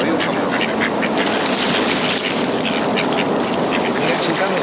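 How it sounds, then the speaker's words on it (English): Ducks quack in a steady, busy chorus on the water, close and loud against dense background noise. "The only duck that's not swimming is the female."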